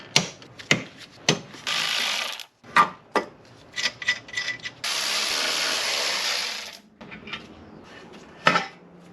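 A ratchet wrench loosens bolts to pull a bar off the engine of a neglected luxury SUV: bursts of rapid, close metallic clicking separated by short pauses, with no one talking.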